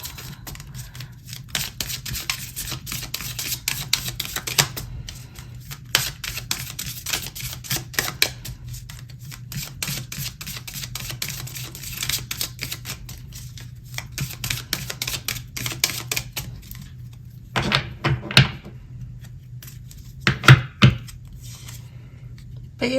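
A Goddess oracle card deck is shuffled and drawn by hand. Dense, rapid papery flicks and crackles come in close bursts, with a few sharper snaps of cards near the end.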